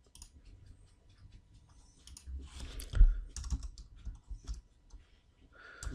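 Computer keyboard typing while entering a plot function in code, quick irregular key clicks at low level with a busier burst of keystrokes in the middle.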